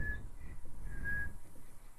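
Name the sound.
character whistling in The Last of Us video game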